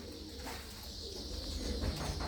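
Racing pigeons, including a twice-winning champion bird, coo steadily and softly at close range over a constant low hum, with no voices.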